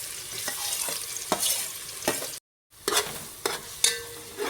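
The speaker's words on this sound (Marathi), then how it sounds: "कांदा फोडणीला घालायचा." Chopped onion hits hot oil for a tadka in a Malvani-style chicken rassa, sizzling steadily while a spoon stirs with several scraping clinks, close and alone, with a brief silent gap midway.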